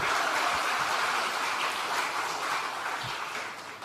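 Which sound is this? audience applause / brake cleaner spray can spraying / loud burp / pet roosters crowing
audience applause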